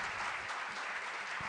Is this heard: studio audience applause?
yes